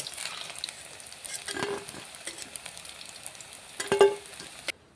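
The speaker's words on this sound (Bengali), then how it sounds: "এবারে বন্ধুরা আমি চপগুলোকে ভেজে নেব।" Beef chops fry in hot oil in a kadai, giving a steady, close crackling sizzle with a few louder pops near the end.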